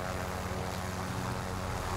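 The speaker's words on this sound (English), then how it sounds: "Okay, let's get the chopper." A steady, droning rotor and engine hum from a helicopter in Call of Duty: Warzone, continuous and fairly even throughout, with no talk.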